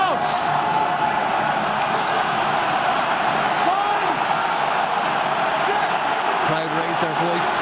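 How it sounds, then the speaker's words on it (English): Rugby crowd at an Ireland versus Scotland Six Nations match around a scrum, a sustained roar of supporters with faint whistles and shouts rising through it, under a commentator's voice. "Crowd raise their voice in support of Ireland's defensive effort."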